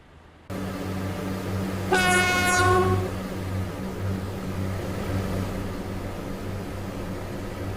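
A train in the Stepford County Railway game starts with a sudden steady rumble of running, then sounds its horn for about a second before the rolling noise carries on alone.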